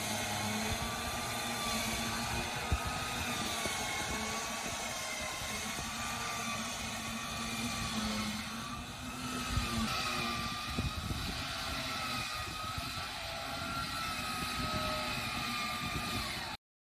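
An electric winch on a vehicle spools in cable with the engine idling, a steady whining motor hum with a faintly wavering pitch over the low engine drone, continuous for about sixteen seconds before stopping abruptly.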